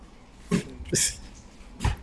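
A small dog at the back of a house gives three short, fairly faint barks or yelps, spaced apart with quiet between them.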